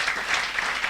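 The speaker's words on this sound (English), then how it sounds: "give yourself a resounding round of applause" Audience applause at a summit hall, a continuous dense patter of many hands clapping at moderate loudness, heard alone without voices on top.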